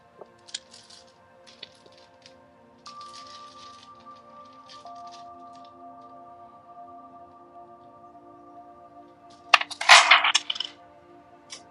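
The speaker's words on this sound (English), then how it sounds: "So I'll just bring all the die out." Dice are tipped out onto a mat: faint scattered taps over a quiet steady hum, then a sudden close burst of rattling clatter near the end. No one speaks.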